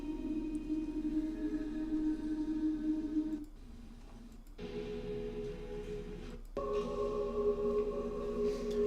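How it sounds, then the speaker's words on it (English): Quiet ambient location recording played over speakers: a low steady hum and faint tonal drones that drop away briefly twice, sounding distant and hollow. "to have sound like this location recording."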